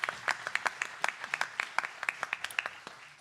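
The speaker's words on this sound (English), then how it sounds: "let's give her a big round of applause" A small meeting audience of city staff and elected officials claps for a league leader, with scattered individual claps distinctly audible at an irregular rhythm, fairly close, fading out after about three seconds.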